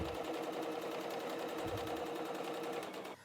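A sewing machine runs steadily and evenly while stitching a quarter-inch seam on a towel, a close, continuous mechanical whir that stops right at the end.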